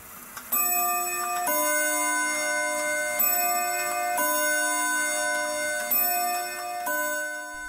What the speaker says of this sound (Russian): Придет Андрей Андреевич, заведет механизм, и дальше тикают себе старинные часы.